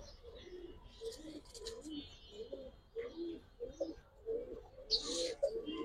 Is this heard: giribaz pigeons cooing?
yes